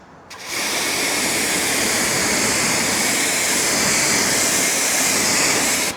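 A water spray hisses steadily as it rinses shampoo off a car hood, a loud, continuous broadband wash that starts abruptly and runs without pause.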